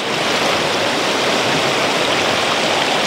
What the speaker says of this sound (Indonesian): lumayan deras airnya lumayan deras